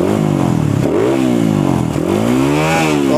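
A Kawasaki D-Tracker motorcycle with a modified camshaft and hollowed stock exhaust revs up close and loud, its engine pitch climbing and dropping in a few quick throttle blips.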